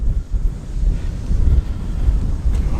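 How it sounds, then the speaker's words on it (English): Strong wind buffets the microphone outdoors at a classic car show in Tatton Park, a continuous low rumbling roar that swells and dips irregularly with no clear voices. "That wind really is quite keen this morning"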